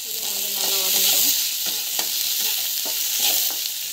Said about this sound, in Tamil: இதுவும் வந்து நல்லா வதங்கணும்.